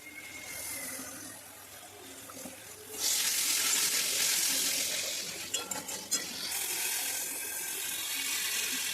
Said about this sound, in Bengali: মশলাটা আমি কিছুক্ষণ ধরে ভালোভাবে কষিয়ে নেব